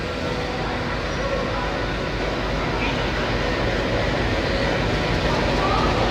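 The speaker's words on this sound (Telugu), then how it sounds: "Diesel engine." A diesel locomotive train runs steadily nearby, a loud continuous low rumble and mechanical roar filling the whole stretch with no breaks.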